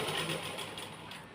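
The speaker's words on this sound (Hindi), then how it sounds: "यहाँ पे हम 1/2 इंच का दबाव देते हुए इस तरीके से यहाँ पे सीधी सिलाई यहाँ पे लगा देंगे।" A sewing machine runs steadily, stitching a straight seam on a kurti with a half-inch allowance, a continuous even whir at low level with no voices.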